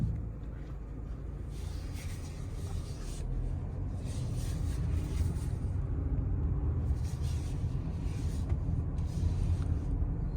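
Inside a 2023 Toyota Highlander LE AWD while driving, a steady low road rumble and engine drone fill the cabin, with faint tire and wind hiss above, continuous and even.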